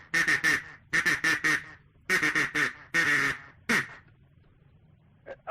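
A duck quacks in several quick bursts of harsh, nasal calls, close and loud, with short pauses between groups and a faint call at the end.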